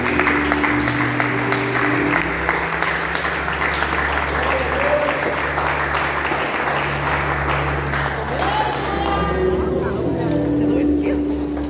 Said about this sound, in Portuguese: se você puder, aplauda Jesus mais uma vez